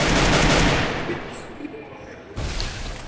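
Rapid bursts of SCAR rifle fire in the Free Fire mobile game, loud and dense at first, then fading, with a sharp resumed burst near the end.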